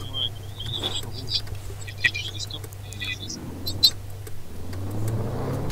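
A toy Citylife automatic gendarmerie car's engine hums and revs at moderate volume, with chirping birds and speech in the background.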